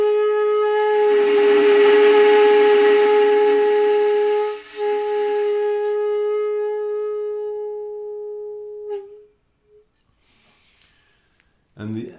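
A shakuhachi flute sounds a sustained tone thick with breath noise, loud at first and then gradually thinning and fading, after which a brief pause and a faint later sound close the passage.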